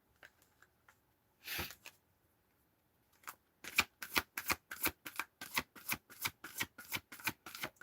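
Tarot cards are shuffled by hand: one soft riffle, a pause, then a fast run of about a dozen crisp, evenly spaced card snaps, close and clear with no talking.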